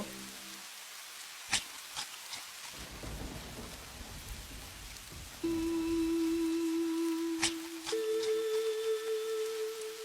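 Steady rainfall patters down with cracks of thunder during a monsoon downpour, the rain continuous and fairly close, while a sustained tonal hum joins partway through.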